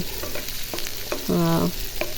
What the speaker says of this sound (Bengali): এখন পেঁয়াজ আর রসুন এটা ভেজে নেব